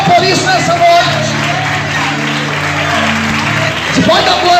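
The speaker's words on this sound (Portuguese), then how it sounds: "Você pode aplaudir e exaltar o Senhor por isso nessa noite." Church congregation applauding during an evening service, loud dense clapping from a large crowd with scattered whoops and shouts, a sustained tone and crowd murmur running beneath.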